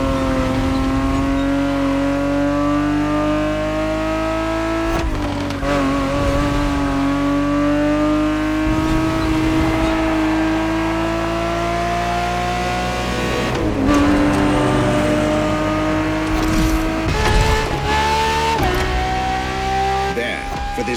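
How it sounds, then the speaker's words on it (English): A 1970s Ferrari 365 GTB4 races in The Crew Motorfest, its engine note droning steadily and rising and falling with gear changes, with occasional tyre and impact noises, loud and continuous throughout. "365 GTB4 is the perfect vehicle for you to experience Ferrari racing as it felt back in the 70s"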